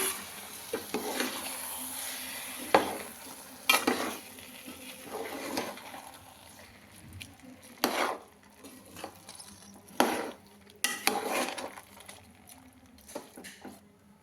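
Intermittent scraping and scooping sounds of a spoon stirring rice in a pot for brinjal pulao, with irregular bursts and quieter gaps between strokes.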